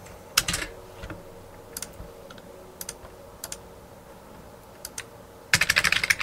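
Typing on a computer keyboard to enter information into a mobile app's form, heard as scattered sharp key clicks in short clusters with a dense burst of rapid keystrokes at the end, close and alone without speech.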